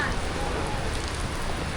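Monsoon rain falls at a train station on the Lahore to Sangla Hill route, a dense continuous hiss of drops on surfaces, steady and fairly loud without a break.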